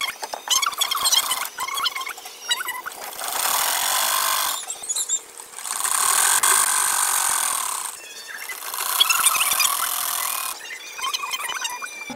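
A sewing machine stitches cloth for a bolster cover, running in three long buzzing bursts of several seconds each, with clicks and pauses as the fabric is handled between runs.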